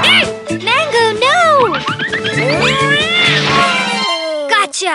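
A cat meows repeatedly, loud and close, in drawn-out rising and falling cries, with a voice talking over and between them.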